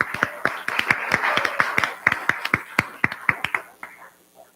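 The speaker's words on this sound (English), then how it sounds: "Let's give them a round of applause." Congregation clapping at a Sunday church service, a handful of loud, close, distinct claps in an uneven rhythm that thin out and fade toward the end.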